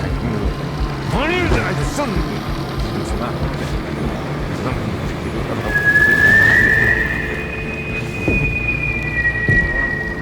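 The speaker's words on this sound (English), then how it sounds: "Is that like a dog whistle?" A high, thin whistle in the Alone in the Dark video game sounds clearly around midway and holds for several seconds before fading, over ambient background noise and a voice talking earlier.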